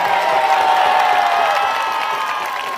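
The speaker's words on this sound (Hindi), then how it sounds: "वो ताली बजाकर धन्यवाद करें उनके।" A church congregation claps and cheers in thanks at a worship gathering, a loud, sustained wash of applause and raised voices filling the space for a few seconds.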